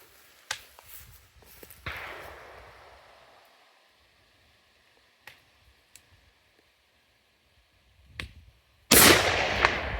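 Rifle shots at long-range targets come as a few sharp, distant-sounding cracks spaced seconds apart over quiet outdoor ambience, ending in a louder burst of noise.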